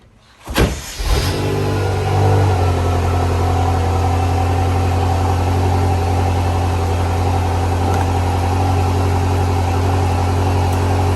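A 2012–2018 BMW M5/M6 engine cranks briefly and catches, then settles into a loud, steady idle that hums on without change.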